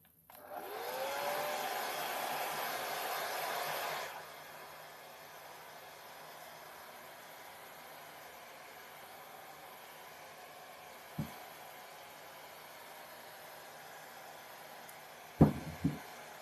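A hair dryer blows with a steady broadband roar for about four seconds, then shuts off, leaving quiet room tone and a couple of soft knocks.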